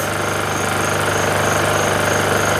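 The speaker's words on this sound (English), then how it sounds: "this compressor will take the startup power much more, and when it gets starting it will go down" An air compressor runs loud and steady off a Honda EU2000i/EU2200i inverter generator, a close, droning, rapidly pulsing mechanical chug with no talk over it.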